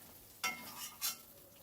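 Potatoes frying in mustard oil in a pan, with two or three short bursts of sizzle and stirring over a quiet background, no talking.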